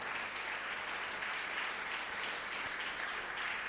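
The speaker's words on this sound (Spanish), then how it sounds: "Fuertes aplausos para nuestro Señor." Faint, distant applause fills a church service in praise of the Lord, a steady wash of clapping from the congregation that holds level throughout without breaks.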